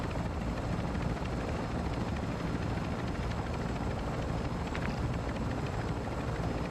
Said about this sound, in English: that helo is fueled and ready to provide exfil